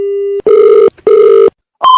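A telephone rings loudly and close, sounding as a few electronic tone bursts in a repeating pattern separated by short silences, with no voices over it.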